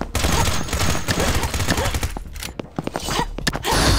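Rapid bursts of gunfire from a first-person shooter video game, a Call of Duty–style clone, crackle loudly in quick volleys, with sharp separate shots standing out toward the end.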